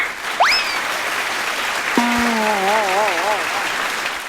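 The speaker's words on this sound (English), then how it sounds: "Hold on, where's the clap button?" Canned applause from a clap-button sound effect, a steady even wash of clapping that runs through the whole clip, with brief whistle-like electronic tones laid over it and no talking.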